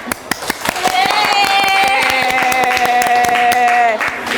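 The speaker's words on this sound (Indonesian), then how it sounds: "Tepuk tangan dulu, semangat" Rhythmic group clapping in a classroom lesson, sharp claps building into steady, loud applause, with sustained voices or singing tones over it throughout.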